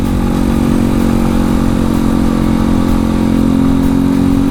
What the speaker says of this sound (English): Another great motorcycle by Janus. Wow, this bike feels great.